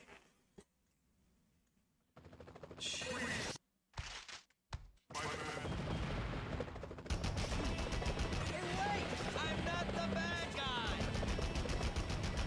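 Gunfire aimed at Spider-Man in the original Spider-Man video game: bursts of shots break in after a quiet start, then a dense, continuous barrage of game noise and firing fills the rest of the stretch.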